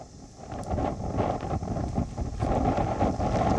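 Strong cyclone wind at Jakhau port during Cyclone Biparjoy buffets the microphone in a continuous, gusting rumble for a few seconds, fairly faint overall and with no voices.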